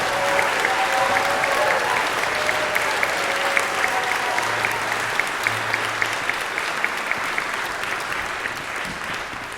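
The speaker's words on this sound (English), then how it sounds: "let's have a word of applause for all the orchestra members" Sustained applause from a concert audience for orchestra members, dense and steady clapping filling the hall for nearly ten seconds, with faint voices briefly underneath.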